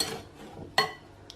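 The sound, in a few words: whisking chocolate custard mixture in a pan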